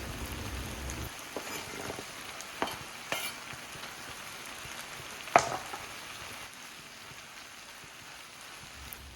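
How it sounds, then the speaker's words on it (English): Tofu stir-fried in a pan with sauce and green onion sizzles and crackles steadily throughout, with a few louder utensil scrapes and clinks, one sharp knock midway, and no talking. "Take the lid off and start to stir fry."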